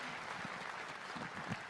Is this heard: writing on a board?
no